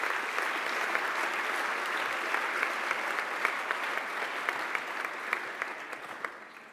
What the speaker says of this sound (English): but please do applaud for Kevork Bardakjian.